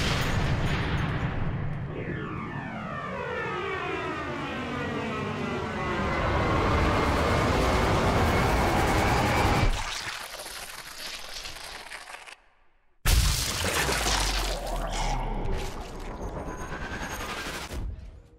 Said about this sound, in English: So the famous Sniper Elite testicle shot